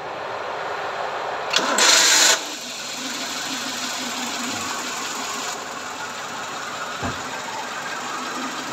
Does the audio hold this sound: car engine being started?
yes